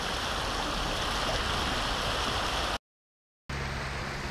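A river rushes and splashes steadily around a kayak, a loud, dense wash of flowing water that drops out briefly and then returns.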